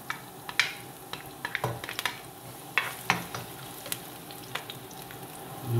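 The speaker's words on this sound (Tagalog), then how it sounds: "magigisa tayo" Garlic sautéing in a pan for pork and chicken tinola, a steady low sizzle with scattered sharp ticks and clinks of stirring, close and fairly quiet, no talk.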